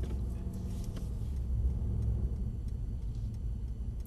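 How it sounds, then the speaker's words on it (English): A Mercedes-AMG C63 on the move gives a low, steady engine growl and road rumble, continuous and fairly loud from inside the car, with no one speaking. "got a bit more of a growl to it, this one."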